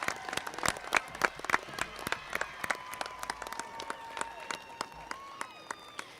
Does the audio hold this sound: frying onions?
no